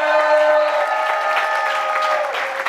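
Audience applause at a televised church program marking a pastor's conversion anniversary, dense clapping from a crowd held steady throughout, with tonal music or a sustained voice running underneath.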